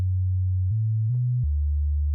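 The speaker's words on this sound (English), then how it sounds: "we have a sine wave." A pure, steady sine tone from the Serum synthesizer, low and smooth, stepping through a few pitches with no other sounds.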